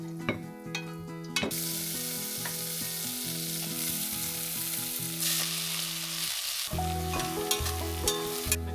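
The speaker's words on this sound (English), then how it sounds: "we are going to utilize some of that to cook our spinach in" Spinach frying in bacon grease gives a steady, close sizzle with occasional stirring, carried under a continuous musical backing track.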